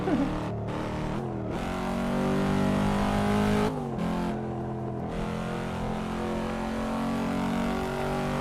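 Engine of a truck in American Truck Simulator, a steady droning hum with shifting harmonic tones and brief dips as gears change, continuous and fairly loud throughout.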